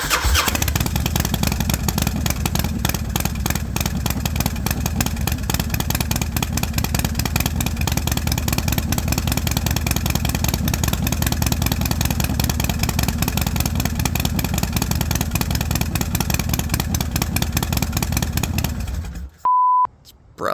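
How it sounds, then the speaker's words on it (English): A Harley motorcycle engine runs loud and close, a steady rapid lumpy idle rumble that holds for about nineteen seconds, then cuts out with a short electronic beep and a brief burst of sound. "Can you really have a Harley video without hearing it start up?"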